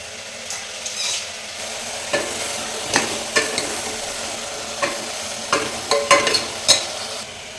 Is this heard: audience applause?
no